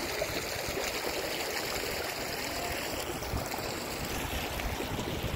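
Meltwater from a melting iceberg in glacial Alberta, Canada runs as a steady, rushing stream, a continuous close gurgle and hiss with no pauses.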